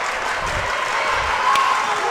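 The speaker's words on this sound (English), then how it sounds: "the Cougar crowd was loud" A home crowd at a college volleyball match cheering loudly, a dense, steady roar of cheers and applause that fills the whole stretch without a break.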